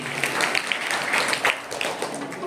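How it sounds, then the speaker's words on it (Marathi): Audience applause at a Marathi bhajan gathering, a steady wash of many hands clapping over about two and a half seconds, with a faint voice underneath. "बरं टाळ्या वाजवा"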